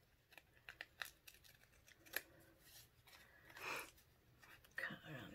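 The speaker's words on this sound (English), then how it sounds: "So you're just going to take it and just cut just a simple little design" Scissors cut a simple design out of a sheet of paper during a photo-jar craft: irregular soft snips and rustles, close but quiet, with faint breathy sounds around them.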